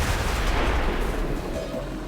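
Deep booming explosion in the turn-based strategy game XCOM 2, a dense rumbling blast with low-end roar sustained through the short moment, no talking over it.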